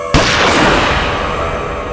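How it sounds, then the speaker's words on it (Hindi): A single loud gunshot sound effect in a TV courtroom drama cracks sharply near the start, then a long, heavy reverberating boom decays over the rest of the clip. "फिर मैंने गोली चलने की आवाज सुनी।"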